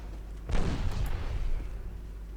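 Naval gunfire striking a warship in the Ultimate Admiral Dreadnoughts game: a sudden heavy boom followed by a rumbling, crackling tail of further impacts that fades over a couple of seconds.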